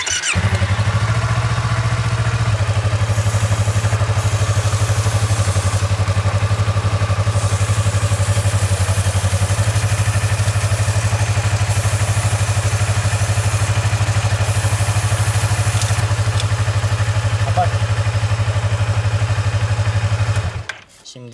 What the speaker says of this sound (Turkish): Motoru çalıştıralım. Ayaklık kapalıyken de vites dönmez. Birinci vitese atalım dönsün.